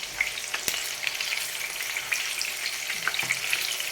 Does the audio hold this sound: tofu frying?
yes